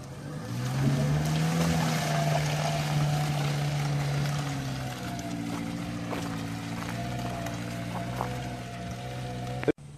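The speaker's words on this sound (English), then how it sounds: "All right, here he comes with the Subaru Sambar. He's trying to get it stuck a little bit." A Subaru Sambar kei truck drives off-road through farm mud, its small engine droning steadily at a moderate distance with a rise in pitch early on, ending in a sharp knock.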